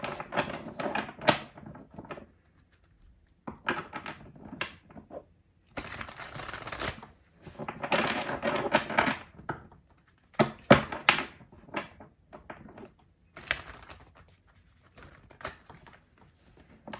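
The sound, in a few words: shuffling tarot cards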